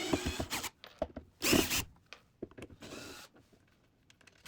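Phillips screws are backed out of a Boss Katana 50W guitar amplifier's cabinet, heard as short, close whirring and scraping bursts separated by quiet gaps and small clicks.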